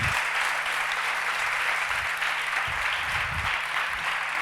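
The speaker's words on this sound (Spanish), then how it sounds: "les pido un fuerte aplauso a María Ramos" Concert audience applause in Valladolid: a continuous wash of clapping from a large crowd, even and sustained at moderate loudness, with no speech on top.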